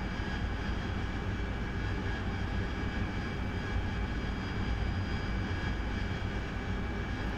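A Harrier AV-8B jet in the DCS flight simulator makes a constant loud engine roar and whine that holds steady without pause.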